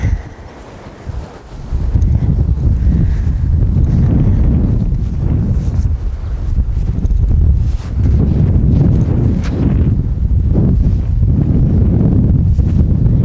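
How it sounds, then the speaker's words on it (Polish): Strong wind buffets the microphone in loud, rumbling gusts that barely let up, with a faint watery wash beneath. "Ale wiatr jest silny."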